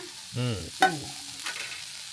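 Tomato drops into a hot pan and is stirred, giving a short clatter and scrape followed by a light sizzle, with a brief tonal hum just before.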